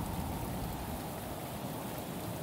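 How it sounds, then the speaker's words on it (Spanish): Rain in the open-world detective game Shadows of Doubt, falling over a flooded city as a dense, even wash of steady downpour that continues unbroken throughout, with no voices. "La gente está corriendo por la lluvia"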